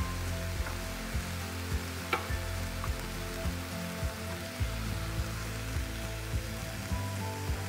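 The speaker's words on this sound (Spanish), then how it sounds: "Y seguimos sofriendo." Chicken sautéing with mustard and vinegar in a pan for a Salvadoran-style chicken sandwich, a steady dense sizzle with soft periodic stirring scrapes, close and continuous, no talk.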